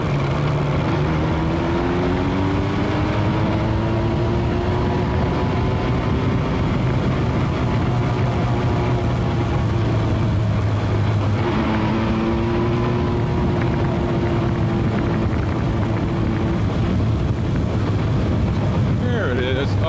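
Motorcycle ride through Fitchburg streets in 1999 on rough roads, a steady low engine drone with shifting pitch as it accelerates and slows, mixed with constant wind rumble on the mic and some talk over it.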